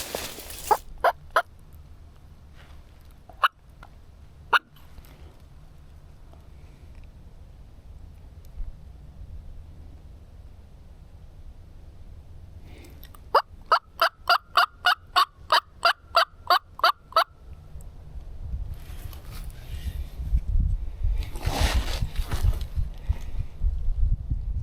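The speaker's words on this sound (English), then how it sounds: "he's gobbling" Wild turkey gobbler in a burned Florida forest, sounding in loud rattling gobbles, a few single bursts early and then a rapid run of repeated gobbles, with rustling footsteps and brush noise building toward the end.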